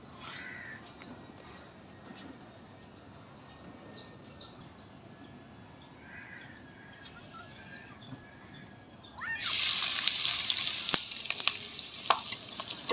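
Chopped onion and green chilli frying in oil in a pan until browning, a soft sizzle under crow caws and bird calls, then a sudden loud burst of crackling spatter toward the end.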